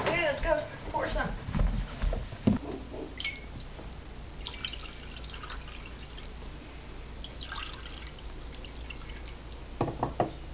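Decaf coffee is poured, heard as splashing and dribbling liquid in short bursts, with voices talking over and between the pours.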